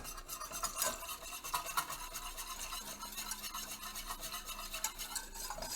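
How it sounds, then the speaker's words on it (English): A whisk beats rapidly through milk being added to a chicken and wild rice soup base, a soft, continuous rhythmic swishing and rasping close by, with no talking. "To this I'm going to add 2 cups of milk slowly, and you're going to whisk while you're doing this."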